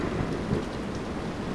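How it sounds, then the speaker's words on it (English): Heavy rain pours steadily and loudly onto a construction site during a thunderstorm, forming a dense, unbroken wash of noise, while low thunder rumbles beneath it throughout. "Buckets of rain plummet to the ground, and if that wasn't enough to stop construction, a crack of thunder and a lightning flash."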